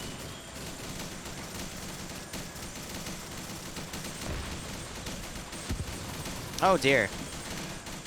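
Heavy gunfire rattles steadily in a Vietnam-era war video game, a fairly quiet, dense background of shots with a few louder bursts, while someone speaks briefly near the end.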